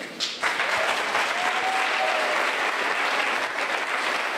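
Sustained audience applause at a conscious eating conference after a talk, a dense steady roar of many hands that starts abruptly and carries on strongly throughout, with a brief whistle or cheer partway through.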